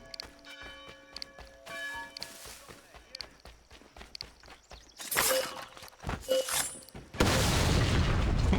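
An explosion in Assassin's Creed 3 follows scattered footsteps and clattering, bursting into loud, rumbling roars with a sustained heavy blast at the end.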